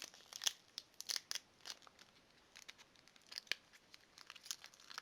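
A Pokemon TCG BREAKthrough booster pack's foil wrapper torn open, quiet close crinkling with a series of short sharp rips and crackles spread irregularly across the moment.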